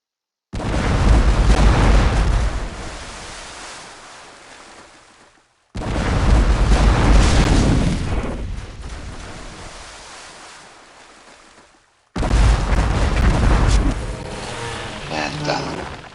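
Cannon fire from warships in a naval battle in the Port Royale 2 video game: three loud, heavy booming blasts a few seconds apart, each rumbling and slowly fading before the next, with no talking.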